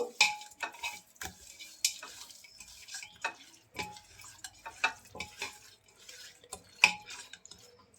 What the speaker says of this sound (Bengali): লবণটা মাংসে ভালো করে মিশিয়ে নেব